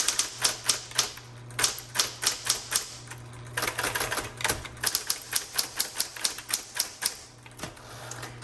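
Fast typing on a repainted 1960s Electra 110 electric typewriter: a quick, steady run of sharp key strikes over the constant hum of the motor, close and alone with no talk.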